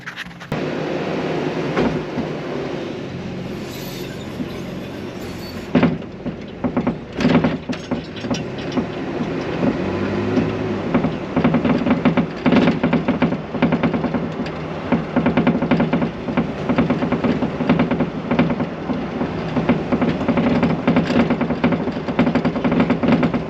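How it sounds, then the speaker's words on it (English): Bed of a 2015 Toyota Tacoma pickup rattling and clattering while driving, a steady rumbling drone with dense irregular knocks and squeaky clicks throughout, close and fairly loud with no talking. "a lot of people complain about their bed rattling"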